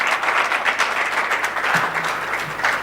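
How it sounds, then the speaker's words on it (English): Steady applause from a seminar audience welcoming a presenter to the stage, a dense, continuous patter of clapping hands held at an even level throughout. "Let's give him a round of applause."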